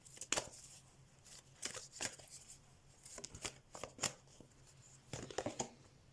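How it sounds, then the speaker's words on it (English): A tarot card is slid from a shuffled deck, giving a few soft, quick riffling and sliding bursts with short pauses between them, close and fairly quiet. "Let me get one of these cards as well."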